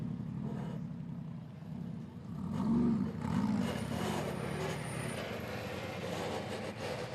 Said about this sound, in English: The V8 fires up.